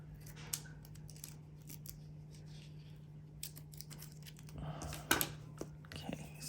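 Scissors cutting and tearing a planner sticker sheet for a Happy Planner spread, giving faint, scattered snips and a crisper burst of cuts later, under a steady low hum and occasional soft speech.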